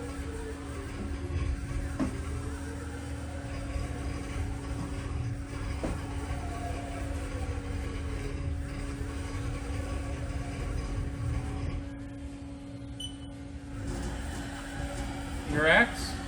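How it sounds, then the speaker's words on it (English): A 2008 Haas VF-1 CNC vertical machining center, 20 hp, drives its Z-axis back and forth, giving a steady mechanical hum with a constant drone and repeated faint whining sweeps as the head travels, over a continuous room-level background. "Currently we have it set up for the Z-axis."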